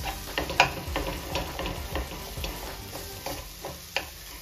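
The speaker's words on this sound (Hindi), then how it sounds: "आलू को सही से तोड़ देंगे इसी में और बढ़िया से मिक्स करेंगे इसको मसाला के साथ" Fried potatoes being crushed and stirred into egg curry masala, a rhythmic series of soft scraping and tapping strokes of a spoon against the pan over a faint sizzle, close and steady.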